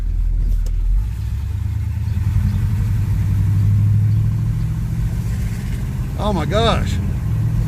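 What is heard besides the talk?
Chevrolet Monte Carlo engine running after cold start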